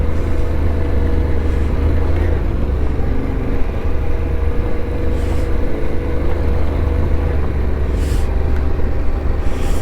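Yamaha Ténéré 700 adventure motorcycle engine revving as it gains speed on an offroad mountain track, a steady loud low drone with wind rush throughout, the throttle rising in brief surges.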